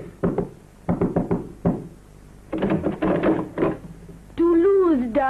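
Knocks on a door land in quick sharp groups, loud and close, then a longer burst of rapping follows. A voice comes in right after.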